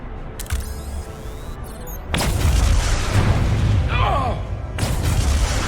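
A detonation in the Star Trek Resurgence game sets off a loud, sustained roar of blasts and rumbling that starts about two seconds in. Voices cut through it briefly, and a second surge of rumble comes near the end.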